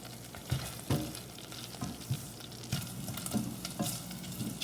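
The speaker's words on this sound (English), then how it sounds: "I'm gonna turn actually my heat up to high because I don't really have to cook this all the way through." Sausage browns in a pan over high heat. A continuous loud sizzle is broken up by repeated soft knocks and scrapes as the pieces are moved around.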